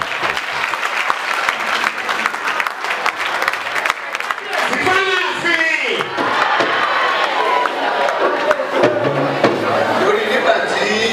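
A crowd at a Yoruba gathering honouring the Alaafin of Oyo claps loudly and continuously, with cheers and shouting voices swelling through the applause.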